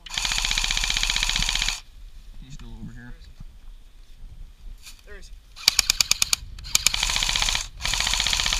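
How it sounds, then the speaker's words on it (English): Rapid machine-gun bursts in an online shooter video game, loud rattling volleys that stop and start, with players talking in between the bursts. "Jordan, over here, they're shooting"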